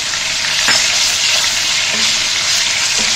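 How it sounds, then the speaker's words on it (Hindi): Garlic sizzles steadily in a pan where chicken has been frying, a close, continuous crackling hiss with faint stirring clinks and no talking. "हल्का सा लहसुन फ्राई होगा"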